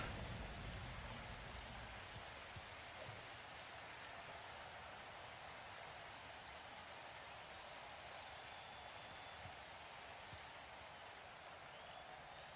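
Rain falls in a video game as a soft, steady hiss of drops spread evenly across the scene, faint and continuous with no voices.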